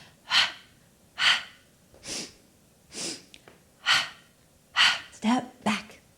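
Heavy breathing after a dance fitness cardio balance exercise, seven slow audible breaths in a steady rhythm, close to the microphone with no talking.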